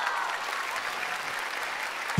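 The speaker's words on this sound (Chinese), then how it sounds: "掌声在哪里" An audience at a televised stand-up comedy show in Shanghai claps in a dense, steady burst of applause lasting about two seconds, heard without talking.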